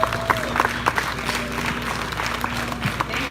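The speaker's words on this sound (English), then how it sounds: "let's hear a round of applause for Lori" A gathering at a 100k subscriber celebration applauds a man's wife Lori, steady clapping throughout with crowd murmur and a few voices mixed in.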